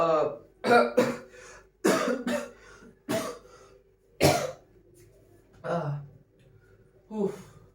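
A person coughing repeatedly up close, about eight separate harsh coughs and throat-clearing bursts spaced by short quiet gaps.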